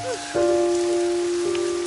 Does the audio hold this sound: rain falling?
yes